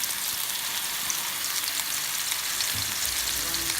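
Ground turkey frying in a pan, a steady close crackling sizzle that holds evenly throughout with no talking.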